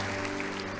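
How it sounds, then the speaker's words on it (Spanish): Church congregation applauding at a Sunday family service, a steady dense wash of clapping that fills the short moment at moderate level, with no talk over it. "Vamos, denle fuerte ese aplauso."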